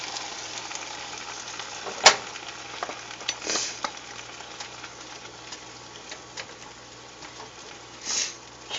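Garlic sauce sizzles steadily in a pan of sauteed asparagus, a soft continuous frying hiss with a sharp clink near the start and a few brief bursts of louder spitting.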